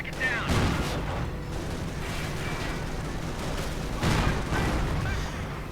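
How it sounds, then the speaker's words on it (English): Bursts of heavy 50-caliber machine gun fire raking Panzer tanks in a World War II strategy video game, two loud rattling volleys with a rumbling battle din between them. "Panzers themselves getting raked with heavy fire from the 50 calibers"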